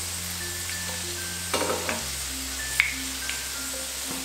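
Chicken koftas frying in oil give a low, steady sizzle with a few scraping clatters from a utensil partway through, and no voices.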